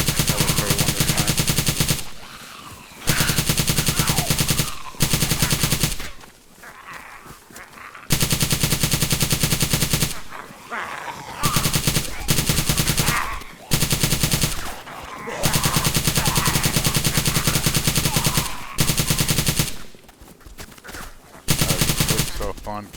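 Sustained automatic gunfire from the video game DayZ as hordes of zombies are mowed down. Long, loud bursts of rapid shots are broken by short gaps, with someone talking faintly in between.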